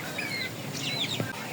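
Native chickens and their chicks give soft, high chirps and clucks in short calls over faint background noise at a moderate distance.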